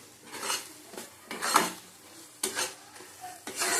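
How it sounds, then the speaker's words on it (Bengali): A ground paste of dried chilli, nigella, salt, turmeric, prawns and garlic is stirred in a hot pan, with short scraping bursts of spoon against metal over a faint sizzle, alone and close. "ভালো করে এটা ভেজে নিতে হবে"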